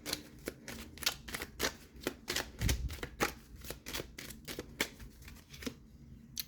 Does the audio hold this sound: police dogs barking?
no